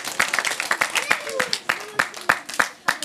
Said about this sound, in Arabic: تصفيق على روحكم